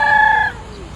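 Rooster crowing loudly and close for about half a second with strong harmonic tones, then fading into softer farmyard clucking and ambient noise, no talking.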